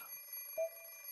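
A short electronic beep from an alarm clock in a video game sounds once, clear and steady against a faint sustained tone, with no one talking.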